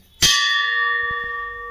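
A single metallic strike on a heavy antique brass pot rings out like a temple bell, leaving a clear sustained tone that slowly fades while faint knocks sound underneath.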